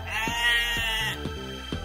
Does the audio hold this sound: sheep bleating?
yes